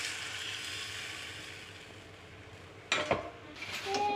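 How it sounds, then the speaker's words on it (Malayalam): Ground spice paste water from a rinsed jar poured into a beef curry pan, a steady hiss that slowly fades, then a sharp utensil clink near the end, close and quiet. "അപ്പോൾ ആ അരപ്പ് വെള്ളം ഒഴിച്ചു കൊടുക്കാം."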